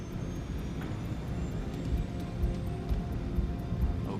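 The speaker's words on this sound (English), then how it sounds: "The 747 accelerates towards takeoff speed, 290 kilometers an hour." Steady, heavy roar of Boeing 747 jet engines building thrust as the airliner accelerates down the runway for takeoff, a dense continuous rumble with no voices.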